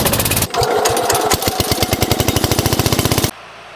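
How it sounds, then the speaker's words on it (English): A 1982 John Deere 400 garden tractor with a Kohler K532 engine runs a Model 50 single-stage snow thrower, giving a loud, rapid, pulsing engine roar that cuts off abruptly near the end. "we're going to use our 1982 John Deere 400 with the Model 50 single-stage snow thrower to get rid of some snow"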